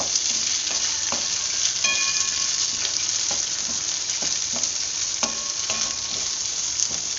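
Chopped big and small onions sauté with masala in a pan for Sankara fish curry, making a steady close sizzle with regular stirring scrapes.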